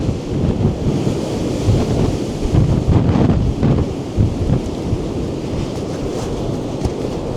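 Strong storm wind roars over surging waves on Lake Erie on a freezing stormy December day, a loud, continuous churning rush with heavier gusts and breaking surges throughout.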